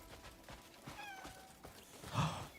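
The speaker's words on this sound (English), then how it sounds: "I heard a cat!" A cat meows once in the video game Crimson Desert, a short, clear, mid-pitched call rising over a low, steady ambient bed.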